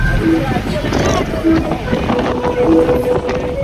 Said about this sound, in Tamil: அந்த காற்று அப்படியே ஒரு காற்று அடிக்குது பயங்கரமாக